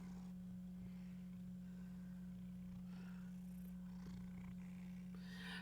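A cat purring steadily while being cuddled, a close, continuous low rumble with no pauses, over a faint constant background hum.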